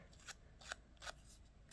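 Scissors rough up the edges of a paper card with three or four quick, crisp snips spaced about evenly, very faint and close, with nothing else heard.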